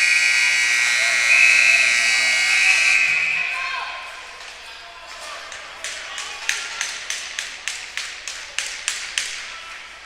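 The final buzzer at a U16 AAA ice hockey game blares loud and steady for about three seconds over arena noise, then fades into a quieter rink where sharp, evenly spaced taps repeat.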